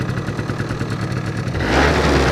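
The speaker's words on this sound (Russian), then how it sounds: "На подсосе работает, но все равно слышно, что обороты у мотора высокие, и даже с подсосом он все равно беднит" A two-stroke engine idles on choke with a lean mixture, holding a steady, fairly high-revving buzz close by, then shifting to a rougher, louder note partway through.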